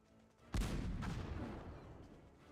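An artillery cannon in Cossacks II fires at an enemy squad: one heavy boom rises sharply, then a long rumbling tail fades slowly over a quiet background.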